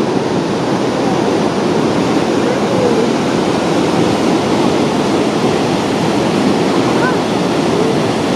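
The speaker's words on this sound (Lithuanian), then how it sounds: "va čia yra kitas krioklis, plonesnis ir mažiukas irgi krenta į upę" Shoshone Falls in Idaho pours into the river below, a constant, loud, broad roar of falling water heard from a nearby overlook.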